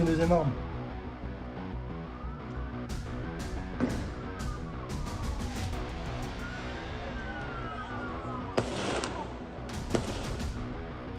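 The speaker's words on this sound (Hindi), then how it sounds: "ड्रोन फुटेज में साफ साफ नजर आ रहा है कि आतंकी गोली चला रहे हैं" Scattered sharp gunshots crack out at Bondi Beach, Australia, some in quick clusters, under a busy mix of voices and a droning whine in the background.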